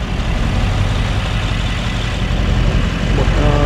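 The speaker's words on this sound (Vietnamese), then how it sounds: "Và chiếc xe bật tắt được bô là on-off nha anh em nhé." A 2021 Mercedes-AMG G63 with a switchable on-off exhaust runs at idle, giving a steady, deep engine rumble that stays loud and close, with a slight swell near the end.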